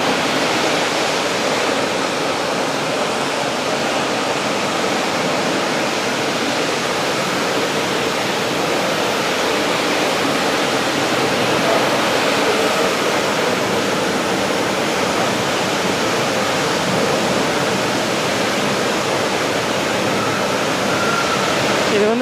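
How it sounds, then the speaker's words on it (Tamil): A granite line polishing machine runs in a stone works, giving a loud, constant broadband roar with a wet, rushing quality that holds unchanged throughout. "இப்போ இங்கே பாலிஷ் ஓடிக்கிட்டு இருக்கு பாருங்க இதான் லைன் பாலிஷ் ஓட்டுற இடம்"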